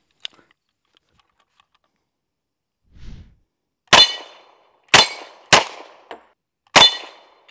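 An M1 Thompson firing .45 ACP at steel targets outdoors gives a sparse series of sharp cracks, each with a ringing metallic ping, spaced about a second apart, with a soft thump beforehand and quiet between shots.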